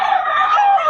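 A gamecock rooster, cross and black, lets out a loud, sustained crow close by, one continuous call filling the whole moment with no talk over it.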